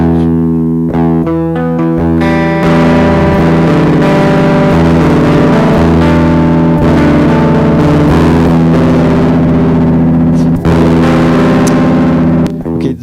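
Guitar run through a software recreation of a Vox amplifier, producing a loud, driven, buzzy tone with ringing sustained chords over about thirteen seconds, no talking.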